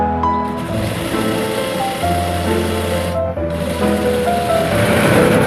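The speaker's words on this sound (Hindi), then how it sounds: "इस तरीके से हमें ये सिलाई लगा लेनी है" A sewing machine stitches a shirt seam in a continuous, loud mechanical whir with a short pause partway through before it runs on again.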